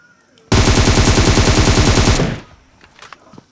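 Sustained automatic fire from an AUG rifle in PUBG Mobile, a loud unbroken burst of rapid shots lasting about two seconds, then cutting off to quiet background.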